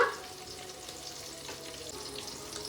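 Curry leaves frying until crisp in oil in a pan for paper poha mixture, a quiet, even hiss of oil running steadily with no talk.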